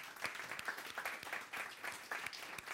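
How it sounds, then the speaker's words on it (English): A fairly quiet round of audience applause greets a community manager at a fireside chat, with scattered distinct claps over a thin crowd wash that continues steadily for close to three seconds. "Round of applause for her."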